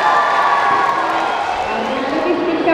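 An audience at a talent show applauds after a performance, with steady clapping and some cheering in a continuous, fairly loud wash.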